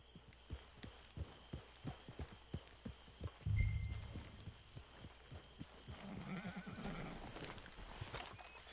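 Steady, even clip-clop of horse hooves at a walking pace in the video game Red Dead Redemption 2 Online, fairly faint, with a horse snorting and whinnying partway through.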